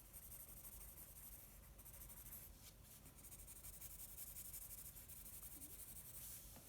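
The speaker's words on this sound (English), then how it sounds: "You can hear the scratching of the pencil here." A pencil scratches softly over paper while someone colors in hand-lettered letters, making a continuous fine rubbing hiss at a low, steady level with small shifts in pressure and no voices.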